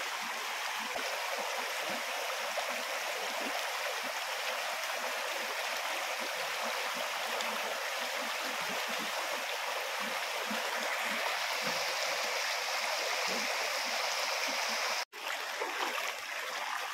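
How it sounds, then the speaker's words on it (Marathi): A small stream runs into the Bharja river in the Konkan countryside, giving a close, steady rushing and burbling of water that stays even throughout, with one brief dropout near the end. "हे बघा हा ओढा आहे ना"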